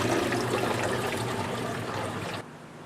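Water drains steadily out of one end of a cleaned algae trough on a home aquarium's algae scrubber, a close, continuous trickle and splash that drops off sharply near the end.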